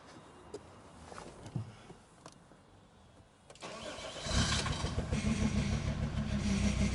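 An Alfa Romeo 159 engine cranks briefly after some quiet shuffling, then fires and settles into a steady, fairly loud idle that continues to the end, close by with no talk.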